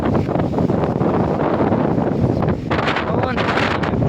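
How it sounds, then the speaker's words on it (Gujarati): Strong wind roars steadily into the microphone during a rainstorm in Vavdi village, a loud continuous rush with no pause. "જુઓ આ પવન"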